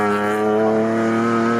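Race cars roar through a corner at Snetterton circuit in an All Comers race, a loud, steady multi-engine drone with rich harmonic tones held at high revs, close by and continuous, with no talk over it.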